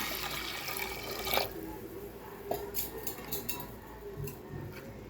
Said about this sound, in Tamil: இப்போ துவரம் பருப்பு மூழ்கிற அளவுக்கு தண்ணி சேர்த்துக்கலாங்க